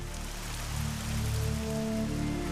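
Rain sound effect standing in for methane rain on Titan: a continuous pattering wash of drops with a low steady hum beneath, even and moderately loud throughout, no voices.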